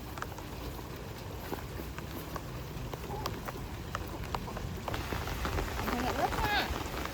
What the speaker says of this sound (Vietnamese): Rồi, trời mưa đấy.